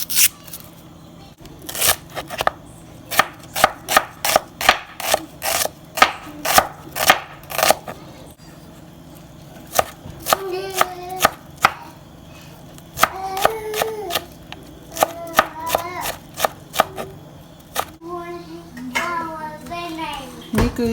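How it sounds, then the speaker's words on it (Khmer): Knife chopping peeled red shallots into small pieces on a board while preparing caramelized pork and eggs, a long run of close, crisp, steady rhythmic cuts with brief pauses, faint talk in the background. "ខ្ទឹមក្រហមនេះគឺយើងត្រូវបកសម្បកវាហើយគឺហាន់វាឲ្យតូច"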